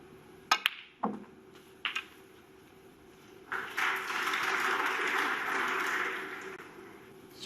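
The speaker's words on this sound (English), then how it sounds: "Smattering of fake applause just means the frame is won behind Snookers." At a Scottish Open snooker final, a few sharp ball clicks and knocks ring out, then a broad wash of canned applause rises and holds steadily, soft and distant.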